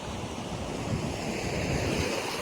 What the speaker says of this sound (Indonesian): Dan ini jadi pantainya bebatuan gitu, banyak batu-batu.